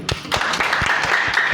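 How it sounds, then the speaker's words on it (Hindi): Applause from an audience at a women's empowerment business gathering, a steady, fairly loud wash of many hands with some sharper individual claps standing out across its short length. "महिला सशक्तिकरण के बाद जोरदार तालियां"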